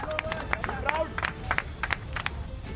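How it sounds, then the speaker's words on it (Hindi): Outdoor crowd outside Lord's clapping as the women's cricket team boards a bus: scattered, uneven handclaps mixed with crowd chatter and voices, moderately loud. "जो लोग वहां मौजूद थे वो इनके शानदार प्रदर्शन पर तालियां बजाते ही रहे।"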